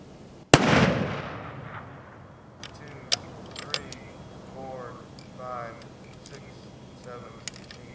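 Single sharp rifle shot at a long-range shooting range, loud and close with a long rolling echo trailing off, followed by a few faint clicks and distant voices talking.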